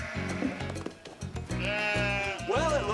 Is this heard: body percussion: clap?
no